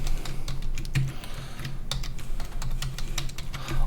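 Rapid, steady keystrokes on a computer keyboard as a router name, login and password are entered, close and clear with no talking.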